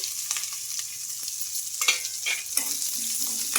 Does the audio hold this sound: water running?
no